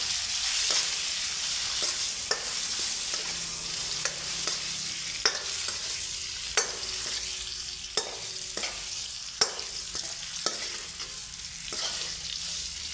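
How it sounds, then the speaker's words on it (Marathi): Paneer sautéing in a pan with Kashmiri chili powder and salt gives a soft, steady sizzle, broken by regular sharp scrapes and taps of a spatula stirring. "कश्मीरी मिरची पूड थोडी थोडंसं मीठ त्याच्यासोबत मी याला थोडं परतून घेतो"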